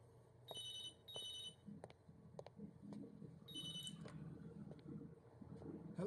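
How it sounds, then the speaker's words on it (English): A phone rings in Vampire: The Masquerade - Swansong: three shrill electronic bursts of ringing, two close together and a third after a pause, over low ambient hum and scattered faint clicks. "Phone call."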